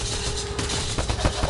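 Rapid gunfire in Mass Effect Andromeda, a short burst of closely spaced shots at steady loudness with a voice talking over part of it.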